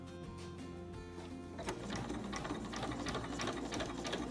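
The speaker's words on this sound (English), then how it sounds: "And now we're ready to sew." A sewing machine stitches apron fabric, starting with a steady motor whir and then breaking into a rapid, close chattering run of stitches, alone and fairly quiet.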